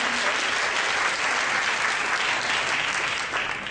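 An audience at a continental theology congress breaks into brief, even applause, a dense wash of many hands clapping close and steady throughout.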